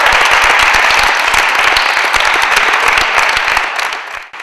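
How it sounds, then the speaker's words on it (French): Loud, dense audience applause after a choir's hymn, many hands clapping steadily before fading out at the end. "Je veux vous entendre applaudir très fort."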